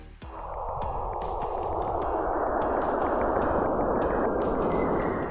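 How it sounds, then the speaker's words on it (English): Plasma waves travelling between Saturn and its moon Enceladus, converted to audio: a steady, dense rushing hiss that swells in after a brief onset, punctuated by sharp clicks and crackles throughout. "That's the sound of plasma waves moving between Saturn and its moon Enceladus."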